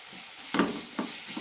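Sliced onions with ginger garlic paste sauté in a pan for chicken mappas curry, a soft steady sizzle broken by a few quick scraping stirs from a spatula, close and fairly quiet.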